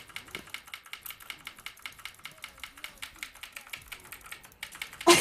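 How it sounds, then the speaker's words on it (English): Computer keyboard hammered rapidly during an online game, a steady stream of quick clacking keystrokes at close range, ending in a louder burst. "Your keyboard is so spammed."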